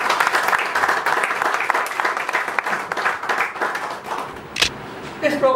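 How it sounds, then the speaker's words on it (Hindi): An audience bursts into sustained applause at a talk event, dense steady clapping that fades toward the end, followed by a sharp noise and brief voices. "मैं चाहूंगा कि हम उनके लिए ताली बजाएं।"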